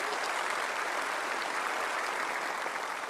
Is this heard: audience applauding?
yes